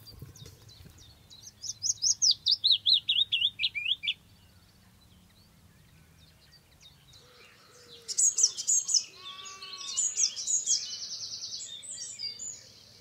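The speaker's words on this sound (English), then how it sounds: "I've seen birds perch on it and sing" Songbirds sing from a tree on Exmoor: a bright rapid trilled phrase, a pause, then a second burst of high chirps and warbling notes, fairly close over quiet countryside ambience.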